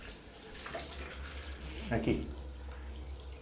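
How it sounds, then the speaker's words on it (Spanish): Open tap in a Cuban hospital suddenly running as the water supply returns, a steady close rush of water with a brief stronger splash midway, under a single short spoken word. "Acaba de llegar el agua, había dejado la pila abierta para que me sirviera de alarma"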